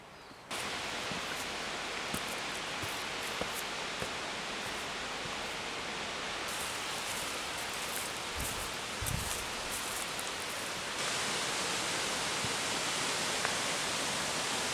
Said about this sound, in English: This waterfall does not disappoint.